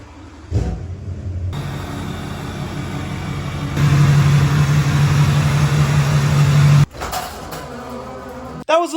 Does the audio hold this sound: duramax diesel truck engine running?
yes